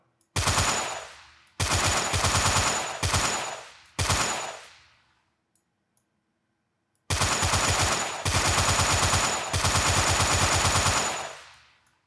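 Automatic gunfire in a first-person shooter game built in Unity comes in loud rapid bursts, four short volleys then a pause followed by a longer sustained stream of shots.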